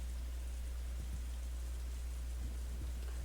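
A late typhoon's wind and rain in the Umineko visual novel, a soft, steady hiss of rainfall over a low rumbling wind bed, faint and unbroken throughout.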